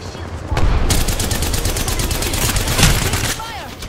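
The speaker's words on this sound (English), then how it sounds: "I am taking fire, friends." Rapid gunfire from Apex Legends erupts after a short pause, a loud sustained burst of shots with a heavier crack near the end before it tapers off.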